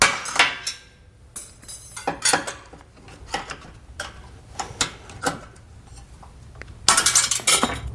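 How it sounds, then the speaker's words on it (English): Snips cut off the leftover handle nuts on base plate hardware for a 2018 Ford Edge. The cuts come as a series of sharp metallic clicks and clinks at irregular intervals, close by, and no one speaks. "now I'm going to come back in with a pair of snips and just clip off the remaining portion of the handle nuts"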